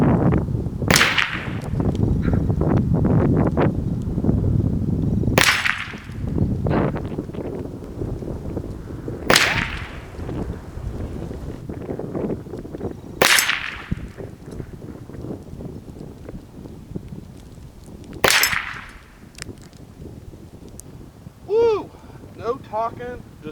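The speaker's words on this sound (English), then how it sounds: "No talking, just straight up shooting Winchester high velocity factory Ruger 1022 at 150 yards at a 1-inch spinner." Sharp rifle shots from a Ruger 10/22 in .22LR and a PCP air rifle fired at a 1-inch spinner 150 yards away, five distinct cracks spaced a few seconds apart over steady outdoor wind and low rumble.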